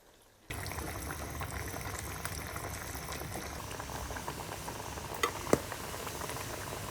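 Pieces of arakkula fish fry in hot oil. After a brief quiet start the oil breaks into a steady, close bubbling sizzle, with a couple of sharper pops near the end.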